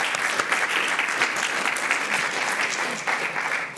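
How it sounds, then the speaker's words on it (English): Festival audience applauding to welcome a panel, a loud, steady burst of many hands clapping with slight swells in intensity, heard alone without speech. "please welcome them with an applause"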